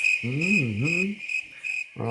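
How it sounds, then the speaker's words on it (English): A cricket-chirping sound effect plays as a steady, pulsed high chirp. A brief voice-like tonal sound overlaps it near the start. "It's crickets."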